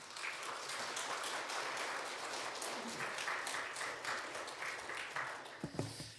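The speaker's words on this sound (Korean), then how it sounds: "우리 목사님 나오실 때 큰 박수로 한번 환영해 주시면 감사하겠습니다" A church congregation claps steadily and fairly loudly to welcome a pastor at a New Year special revival service, the applause sustained and even before a brief voice near the end.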